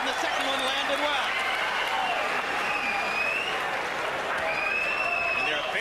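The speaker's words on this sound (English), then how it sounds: "there are a fair number of Byrd rooters in the crowd" A boxing arena crowd at a Vitali Klitschko vs Chris Byrd fight keeps up a continuous roar of cheering and applause, with a commentator talking over it throughout.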